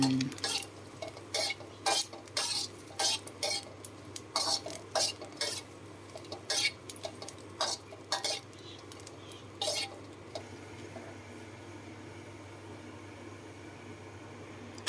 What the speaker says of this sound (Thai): คั่วพริกหอมกระเทียม เพื่อทำน้ำพริก